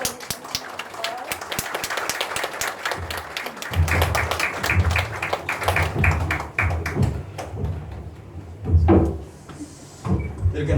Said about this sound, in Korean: 목사님 사랑합니다 의미로 박수 쳐주시고